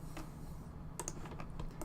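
Computer keyboard typed on close to the microphone, a quiet run of irregular clicking keystrokes over a low steady hum, with no voices.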